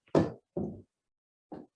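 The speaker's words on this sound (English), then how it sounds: "I'm going to adjust my chair" Chair being adjusted: three short, close knocking thuds, two in quick succession and then a single softer one after a pause, with no talking.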